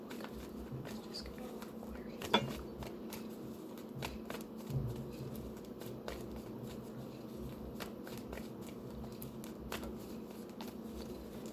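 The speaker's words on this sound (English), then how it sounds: "Let's just go ahead and pull some more cards out and see what other messages we can get." Tarot cards are shuffled and pulled by hand in a quiet room, giving a soft continuous riffling and patter with a few sharper snaps of cards being drawn.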